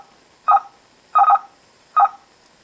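Three short one-byte FSK serial data bursts from an FSK generator, each a brief two-tone chirp, spaced evenly apart and fairly quiet against a silent background.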